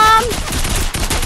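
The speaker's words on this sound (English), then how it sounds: "Someone's shooting!" A rapid, loud burst of gunfire fills the moment without a break, close and harsh, while a voice is briefly heard at the start.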